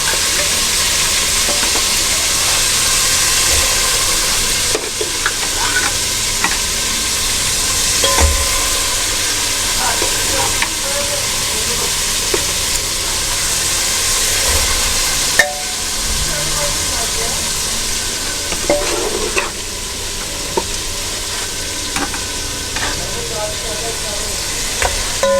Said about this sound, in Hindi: और इनको अच्छे से फ्राई करेंगे।